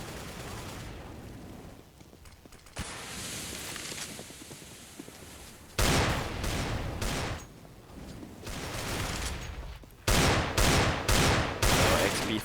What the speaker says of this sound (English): Firing shot after shot, nothing with a quad kill already.